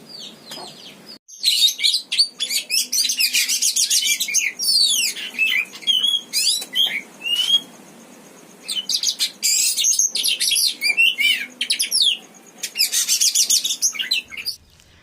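An oriental magpie-robin (kacer) sings loudly and close in rapid bursts of bright whistles, chirps and trills, phrase after phrase with short pauses, no voices present.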